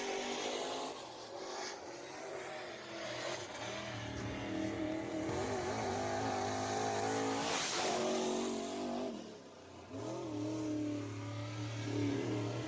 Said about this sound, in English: And Daughtry now on his first lap as he takes the green here out of 2 laps of qualifying time.